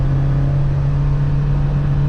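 A Volvo 343GL with Variomatic belt-driven CVT drones loudly and steadily, its engine holding one constant, low, buzzing roar close by with no change in pitch and no talk.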